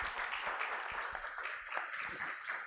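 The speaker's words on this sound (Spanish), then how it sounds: "Les damos un aplauso, por favor, para despedirlos." Audience applause at a theology conference at a Catholic university, a steady, fairly faint patter of many hands clapping that continues evenly throughout.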